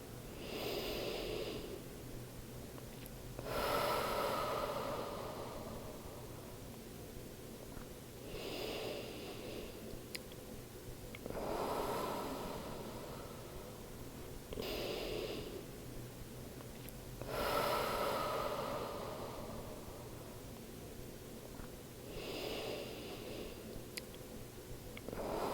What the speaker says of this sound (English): Now we're going to inhale and exhale for 2 minutes.